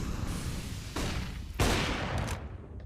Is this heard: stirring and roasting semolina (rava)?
no